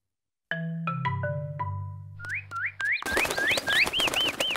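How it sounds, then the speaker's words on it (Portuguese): Small cartoon birds in a garden from Peppa Pig give a run of bright chirps and rising whistles, first spaced, then quickening into busy twittering over a burst of noisy music or bustle near the end. "Olha, os passarinhos voltaram."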